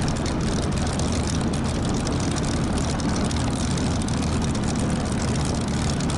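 A Spitfire propeller aircraft rolls out after landing, a continuous loud engine and propeller drone heard from the cockpit, dense and steady with heavy low rumble and no speech.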